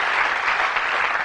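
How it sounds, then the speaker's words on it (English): Studio audience applause on the 1982 game show Bullseye rings out for a contestant couple, a brief, thick burst of many hands clapping at once, with no speech over it. "Give them a nice round of applause, Wendy and Ben."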